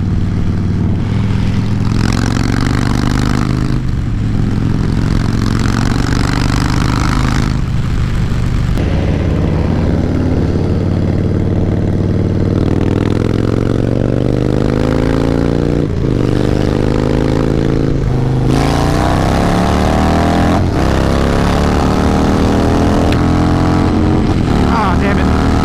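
A 2018 Harley-Davidson Fat Bob and a 2017 Dyna Low Rider S roar loudly as they accelerate hard toward redline in each gear, the engine pitch climbing and dropping with several shifts, with wind buffeting throughout.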